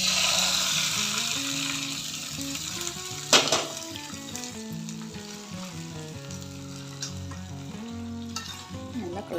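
Asafoetida and curry leaf tempering is stirred into a pot of pongal, giving a steady close sizzle and fry with stirring scrapes and one sharper clatter partway through.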